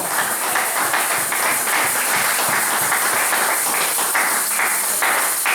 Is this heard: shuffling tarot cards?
no